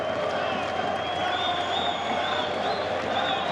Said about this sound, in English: He gets a nice round of applause from the Santos faithful.